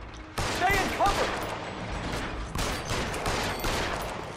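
Rapid bursts of gunfire in a shootout in the video game L.A. Noire, loud overlapping shots in clusters across the whole stretch, with brief voice fragments mixed in.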